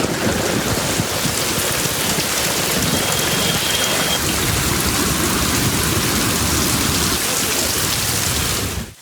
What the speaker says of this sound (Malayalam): കനത്ത മഴ തുടരുകയാണ്